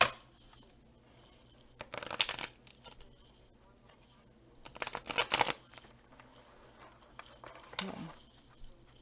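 Tarot cards being shuffled by hand during a reading, giving papery riffling and flicking bursts that come and go, with soft rustling in between.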